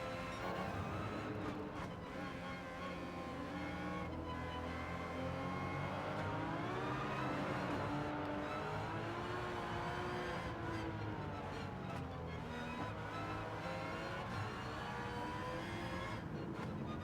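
Race cars in Gran Turismo 7 hold a steady engine drone with rising and falling revs as the player's Supra works through heavy traffic, a continuous loud whir with no talk.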